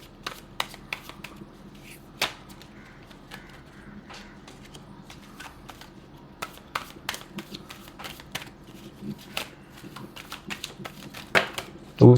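Tarot cards being shuffled by hand, a soft run of quick papery riffles and taps with sharper flicks now and then, close and fairly quiet, with no talking.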